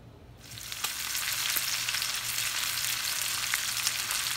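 Steak fries in a pan with a dense, crackling sizzle that starts abruptly after a brief quiet moment and holds steady and close, with occasional louder pops.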